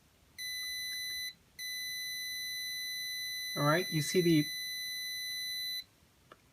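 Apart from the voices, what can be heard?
Arduino ultrasonic sensor alarm buzzer sounding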